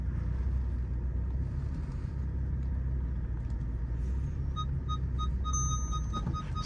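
A Volkswagen Golf GTI 7.5 creeps slowly forward under park assist, its engine a low steady rumble close by with faint beeps from the parking system chiming in toward the end; no one speaks.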